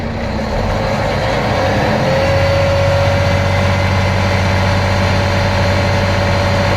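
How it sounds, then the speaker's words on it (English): Truck diesel engine idling steadily and close while its air compressor fills the air tanks, a constant low rumble with a faint whine running throughout, no talk. "the air compressor will stop pumping air to the tanks"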